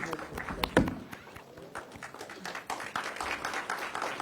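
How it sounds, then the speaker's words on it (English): Audience applause for Piyush Goyal at India Today's GI Samagam event, a quiet scattered patter of claps from a hall crowd, with a sharper burst near the start and voices talking over it. "let's give him a very, very warm round of applause"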